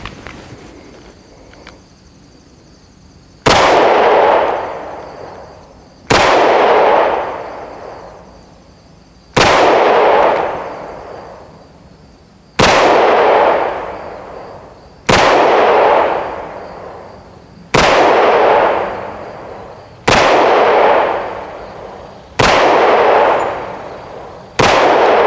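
Hi-Point JXP10 10mm blowback pistol firing outdoors, eight loud sharp reports spaced a few seconds apart, each with a decaying echo tail, no talking.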